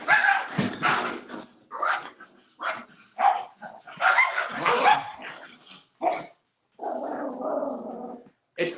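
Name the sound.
small dog barking aggressively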